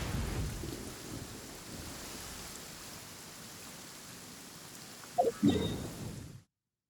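Video game rain and thunder in Genshin Impact's Liyue Harbor: steady rain hisses softly, with a deep thunder rumble at the start and a couple of sharper cracks near the end before it cuts to silence.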